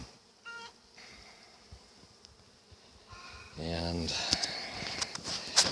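Honey bees buzz around a cluster of hives during a hive merge, a faint hum that swells louder in the second half, with nearby clicks and handling noises.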